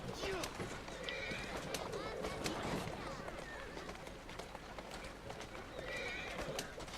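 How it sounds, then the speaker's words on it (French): A horse-drawn carriage in the video game Assassin's Creed Syndicate, steady clip-clop of hooves with occasional neighing and wheel rumble running throughout, heard under a person speaking. "on va se déplacer en calèche"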